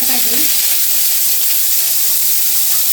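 Onion and ginger paste sizzling loudly in hot oil with cumin, dried chilli and a bay leaf, a steady dense frying hiss that stays continuous and close throughout.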